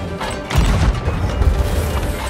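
Ship cannons fire in the pirate video game Sea of Thieves, a heavy booming blast followed by crashing, rumbling impacts that roll on loudly with no talk over them.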